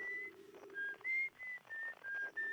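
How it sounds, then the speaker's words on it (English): A melodic whistled tune from the game Outer Wilds, a series of clear sustained notes in short phrases with brief gaps, moderately loud over a soft ambient bed, with no talking. "I feel like I remember the whistling."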